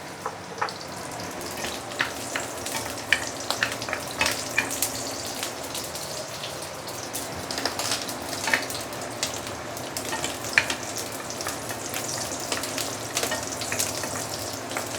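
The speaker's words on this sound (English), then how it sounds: "saute the garlic." Garlic sautéing in oil for Teochew rice porridge, a steady bright crackling sizzle with scattered pops and ticks running evenly throughout at close range.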